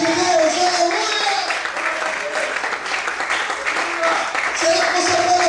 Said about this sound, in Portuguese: Será que você pode aplaudir e glorificar o nome de Deus?